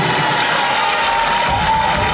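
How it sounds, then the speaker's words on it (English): An audience gives a round of applause, a dense, steady wash of clapping that holds at an even level throughout with a little crowd noise mixed in. "Richard Lidoy, round of applause, please."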